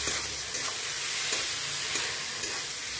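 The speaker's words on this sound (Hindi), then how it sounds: "अभी टमाटर डाल देते हैं खूब ढक के भजेंगे" Tomatoes frying with masala in a pan, a steady close sizzle with soft stirring scrapes and no talk.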